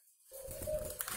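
Spotted dove cooing close by, a steady low hooting call that starts after a short silence and holds for about a second.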